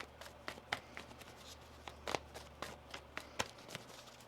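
A tarot deck is shuffled by hand in a quiet room: a run of soft, irregular card slaps and riffles, close and fairly faint, with no one speaking.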